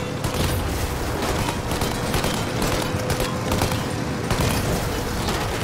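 Dense, continuous gunfire and booms fill a shootout in the Mafia video game, with rapid shots layered over a steady mechanical drone during a chase involving a plane.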